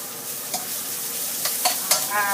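Shallots, chili, lemongrass and herbs stir-frying in oil for a Lao-style anchovy dish with dill and cabbage, a close steady sizzle broken by a few quick scrapes of the spatula.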